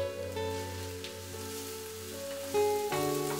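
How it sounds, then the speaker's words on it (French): Chopped onion sweating in a splash of oil in a pan over medium heat, giving a steady soft sizzle that holds at an even level throughout, with faint tonal background hum and no talk. "dans une poêle à feu moyen, un filet d'huile, les faire suer une petite minute"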